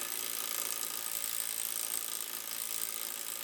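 A rapid, steady ratcheting clatter sounds from a tool working loose a rusty suspension bolt on a Honda Civic, a continuous mechanical whir held close and fairly loud for a few seconds with no voices.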